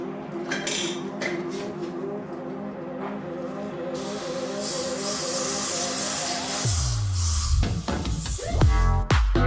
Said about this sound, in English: Now I'm going to be using the Viacal Lime Scale Spray